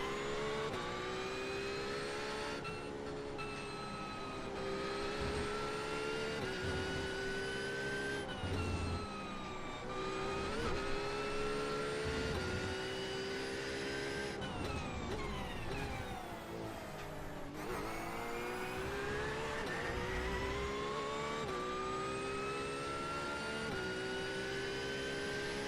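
GT3 and GTE race cars in iRacing, including a Ferrari GT car, engines wailing steadily at high revs with repeated gear changes and shifting pitch, loud and continuous for the whole stretch.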